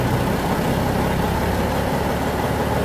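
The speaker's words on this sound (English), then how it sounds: "850 is my target RPM for idling." A truck's diesel engine idling close by in winter, a steady loud low rumble with an even throbbing pulse and no change in pace throughout.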